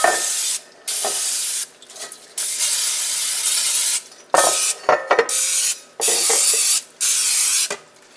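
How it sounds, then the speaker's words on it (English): Cooking spray from an aerosol can hissing into a bundt pan to coat its crevices, in several close, loud bursts of about one to two seconds each, separated by brief pauses. "I'll just spray it and that'll be good enough."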